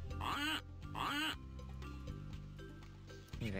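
Cartoon duck in the Freddi Fish 4 video game, two rising nasal quacks close together near the start, then a low sustained musical drone and another quack-like call at the end.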